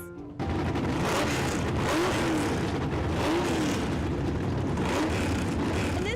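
At an outdoor art fair car show, car engines fire up and rev hard, a loud continuous roar that rises and falls in surges and fills the open air.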